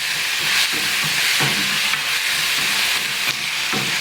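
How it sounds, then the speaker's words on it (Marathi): Onion frying in a pan for a chutney makes a steady, close sizzle with rhythmic stirring scrapes recurring every second or so, without any talking. "कांद्याला सुद्धा आहे ना 2 ते 3 मिनटं व्यवस्थित भाजून घेऊया"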